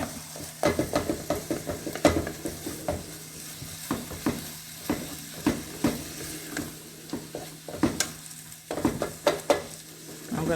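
Ground turkey for chili browns in a pan while a spoon stirs and breaks it into small pieces, giving a steady sizzle cut by repeated scraping clacks against the pan throughout.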